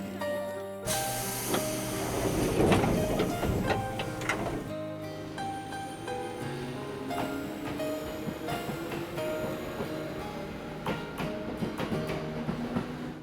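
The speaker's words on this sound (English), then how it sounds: "The train is leaving on line 2. Please stand clear of the doors." Train departing a station in a visual novel game, a loud rumbling, hissing wash with clattering transients and swelling mechanical noise that gradually settles into a steady running sound.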